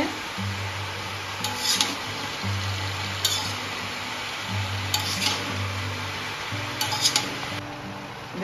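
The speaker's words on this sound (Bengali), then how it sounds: "হলুদ দিয়ে দেব। এখন নেড়ে নেব ভালো করে।" Vegetables with salt and turmeric are stirred in a pan for a vegetarian pachan, a steady sizzle underneath with repeated scraping strokes of a spoon against the pan, close and clear, with no talking.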